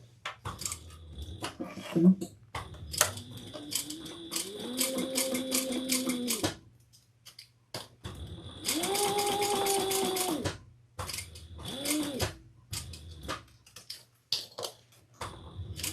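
A sewing machine top stitches a thick handbag, running slowly in several close bursts of rhythmic whirring and ticking, separated by pauses and small clicks.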